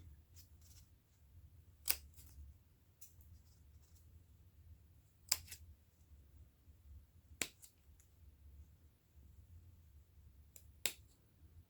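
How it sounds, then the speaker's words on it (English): Scissors snip a small tree shape into a folded paper snowflake, giving a few sparse, sharp, quiet clicks spaced seconds apart against a faint low background hum. "I am going to go ahead and cut a small little bitty tree."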